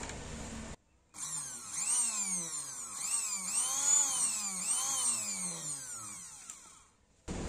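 A Philips HR 1731 blender motor runs after its bushing has been lubricated, giving a steady high whine with wavering, cycling pitch for several seconds between brief silences at either end.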